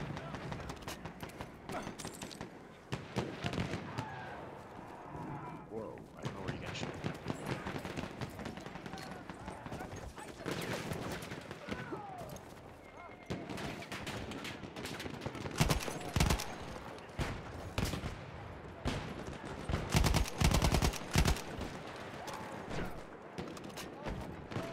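Rapid bursts of BAR automatic rifle fire in a first-person shooter game, repeated volleys crackling over a dense mix of game sounds, with people talking throughout.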